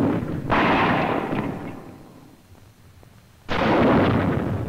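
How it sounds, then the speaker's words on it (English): An M6 bazooka anti-tank rocket launcher fires twice, each shot a loud, sharp blast with a rushing tail; the first lasts about two seconds, then a quieter lull, then a second powerful whoosh near the end. "When the rocket fires, the launcher doesn't jump back."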